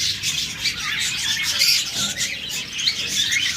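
Caged budgerigars, cockatiels and lovebirds chirping together in a continuous, busy twittering chorus, fairly loud and close, with a few sharper squawks standing out.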